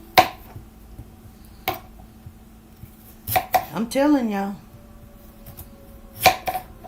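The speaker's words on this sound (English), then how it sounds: "And y'all hear me chopping?" A knife chops food in a home kitchen with a few sharp, separate strikes spaced across the moment, close by, while a person talks between them.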